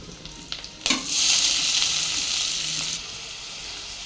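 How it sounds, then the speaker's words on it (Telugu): Three green chillies and two small finely chopped onions drop into a pan of oil with cumin seeds for palak khichdi: a few light clinks, then a sudden loud sizzle that holds steady and eases off slightly near the end. "జీలకర్ర వేగాక ఒక 3 పచ్చిమిరపకాయలు, 2 చిన్న ఉల్లిపాయలు సన్నగా తరిగి పెట్టుకుని అవి కూడా వేసుకోవాలి"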